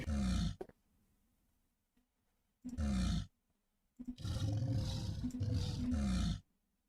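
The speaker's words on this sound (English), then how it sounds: "It's like a tiger." Tiger-like growling roars made as a game sound effect: three loud, deep roaring bursts with silent gaps between them, the last one long and rumbling, heard alone without talk.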